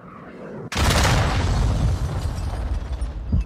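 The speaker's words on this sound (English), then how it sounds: "Hostile cruise missile launched." A cruise missile strike in a Call of Duty match lands as a sudden loud blast, then a dense rumbling roar that lingers for several seconds.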